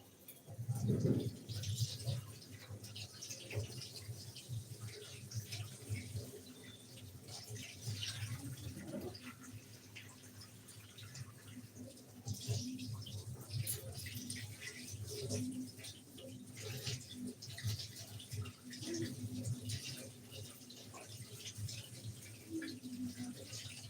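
Hingcha greens being washed by hand in water, with steady splashing and trickling throughout at moderate loudness, plus soft background noise and a few faint bird calls.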